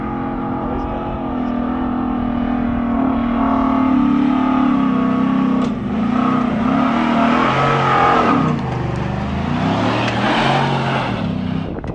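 A Forged Offroad Ford Raptor truck revs its engine at low gear on rutted desert terrain, a steady, rumbling mid-pitched drone that swells and dips in throttle, with people talking over it.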